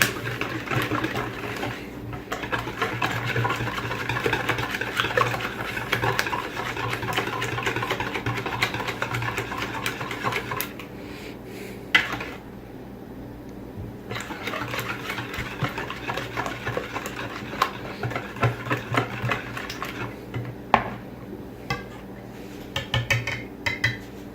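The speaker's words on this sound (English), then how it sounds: "It's getting there, so we're going to give a couple more solid whisks." Sugar is whisked into a bread pudding mixture in a bowl, with rapid metallic scraping and clinking of the whisk for a long stretch, a brief pause, then a few more solid strokes.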